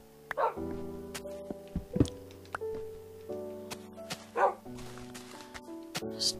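Dogs in Minecraft give several short, separate barks and yips scattered over a quiet game background, with soft clicking sounds between them.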